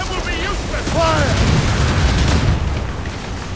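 Ship cannons in Assassin's Creed Rogue boom through a naval battle, a dense rumbling barrage that swells midway and then trails off beneath faint shouted voices and sea noise.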